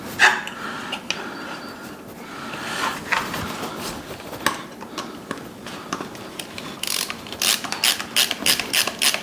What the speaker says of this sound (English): Now, we'll just pop the screws in place.